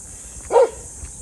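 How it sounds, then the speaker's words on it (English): A dog in a Hiroshima park gives a single short bark, a brief mid-pitched burst standing out from quiet outdoor ambience. "Oh, there's a lovely dog."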